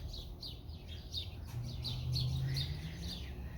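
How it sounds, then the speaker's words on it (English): Wild garden birds gather at a feeder, with a quick series of high chirps and tweets repeating throughout over a steady outdoor background and a low hum. No one speaks. "as soon as we walk away, the birds start showing up"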